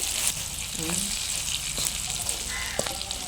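Ivy gourd with coconut frying in a pan, a steady bright sizzle with occasional clinks of a utensil stirring, close and continuous.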